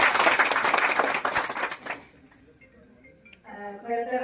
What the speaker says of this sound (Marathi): टाळ्या जोरदार